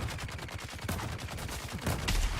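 Rapid automatic gunfire comes from a heavy gunner enemy in the Dune: Awakening video game, a dense, fast burst of shots that is fairly quiet and sounds distant, with no talk.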